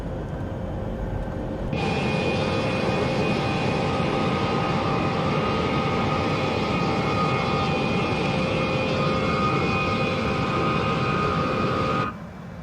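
An Embraer E175 jet takes off in Microsoft Flight Simulator. Its engines give a loud, steady roar with a high whine on top. The sound starts abruptly, holds evenly for about ten seconds, then cuts off near the end.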